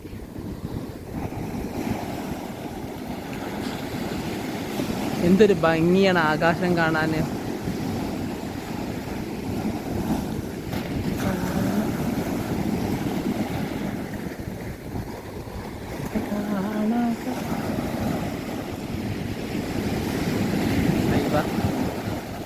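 Sea waves wash onto a beach in a steady, continuous surf roar mixed with wind buffeting the microphone, while people talk over it throughout.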